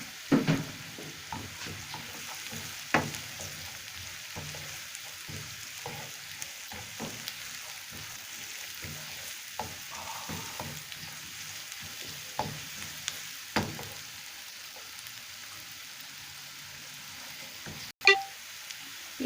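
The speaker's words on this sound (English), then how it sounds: "Now we add our garlic and ginger." Garlic and ginger sizzle steadily in hot oil, with a soft continuous crackle broken by frequent scrapes and clicks of stirring, close up and without voices.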